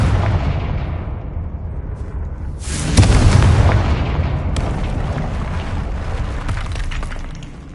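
A booming blasting-curse explosion in a Hogwarts wizarding video game: a loud burst that swells around three seconds, then a long rumbling, crackling decay.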